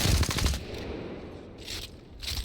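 Rapid automatic gunfire in a video game during recoil and tracking practice on a controller, loud close bursts of shots for about half a second, then a quieter stretch with brief return bursts.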